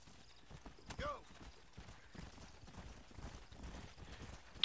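Horse hooves clip-clopping at speed in the open-world Western video game Red Dead Redemption, quiet rhythmic thuds running throughout under brief talk, with a short whinny-like cry near the start.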